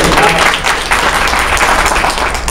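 Audience applause at a question session on expectations of a mayor, a dense steady clapping from a crowd that fills the whole moment and stays loud throughout.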